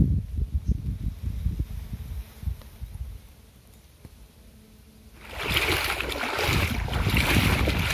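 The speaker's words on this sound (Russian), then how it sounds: "По центральной улице течет ручей." Floodwater stream running down a central street after the 2020 flood in Khabarovsk, a quiet low rumble at first, then a loud, steady broadband rush of flowing water and wind from about five seconds on.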